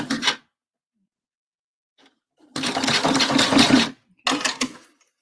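Sewing machine stitching a bra band, three separate bursts of close mechanical whirring, the longest around a second and a half, broken by stretches of silence.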